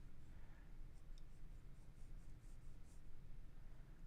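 A pencil scratches steadily across paper while a snowy landscape with branches and a tree trunk is sketched, a soft, continuous close-up rasp with no talking.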